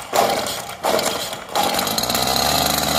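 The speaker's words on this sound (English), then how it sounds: "Set the head down, and now you just pull it till it starts." A Stihl brush cutter engine on choke is pull-started, giving three rough bursts as the cord is yanked, the last catching into a sustained raspy two-stroke buzz, loud and close.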